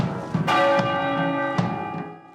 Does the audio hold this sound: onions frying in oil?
no